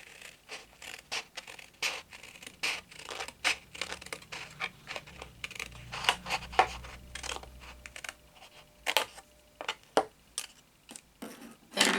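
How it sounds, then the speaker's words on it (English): Scissors snip repeatedly through card while a paper pop-up box is made, giving a steady run of short, crisp cuts and crinkles, fairly close and moderately quiet, with no talking. "So get 2 scissors and just cut in like that"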